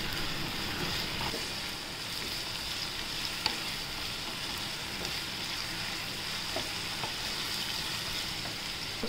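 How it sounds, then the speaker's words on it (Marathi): Onion fries in oil in a pan, a steady close sizzle with occasional soft stirring scrapes and small pops, continuous for about nine seconds without speech. "आता हा कांदा आपण कच्चेपणा जाईस तोपर्यंत तेलात परतून घेऊया।"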